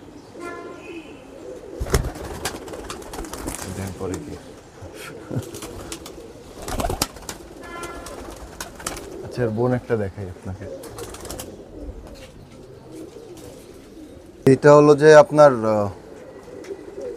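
A Pakistani Teddy pigeon coos in short bursts, the loudest and closest near the end, while someone talks over most of the stretch and sharp handling knocks break in now and then.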